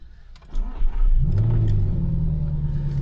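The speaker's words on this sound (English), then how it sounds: "the V8 sounds so much better" An Audi R8 V8 sports car engine starts up and revs, climbing into a deep, loud roar that settles into a sustained rumble nearby.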